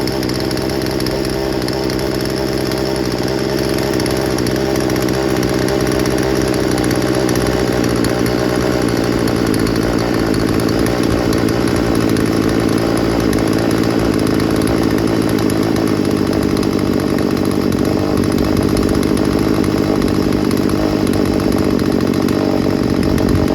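Craftsman 16-inch 38cc chainsaw engine idling steadily after tuning, a loud, continuous buzzing two-stroke drone held close up for over twenty seconds without a break.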